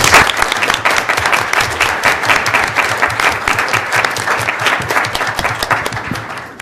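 A seated audience applauds a final panel at a symposium on 3D printing and tort liability, with steady, dense clapping that carries on for several seconds without a pause.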